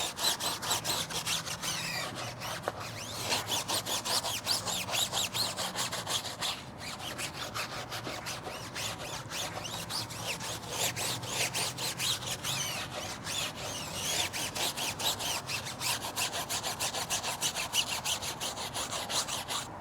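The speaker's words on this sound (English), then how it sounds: "I'm continuing to scrub it because I want to see if it starts drying out on me" A brush scrubs a dirty car tire soaked with all purpose cleaner in a continuous, fast back-and-forth rasping that stays close and fairly loud for the whole stretch, with no talking.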